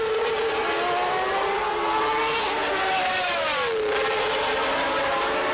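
Formula 1 cars from the 1992 season scream past, Riccardo Patrese chasing Gerhard Berger's McLaren: loud, high-pitched engine wails rising and falling in pitch as they pass close by, continuous and unbroken.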